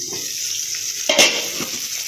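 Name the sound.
broad beans frying in oil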